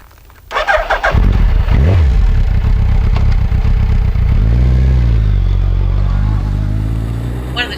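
A motorcycle starts with a clattering crank, then its engine catches and roars loudly up close, revving and pulling away steadily as the rider sets off, with the engine note rising and holding.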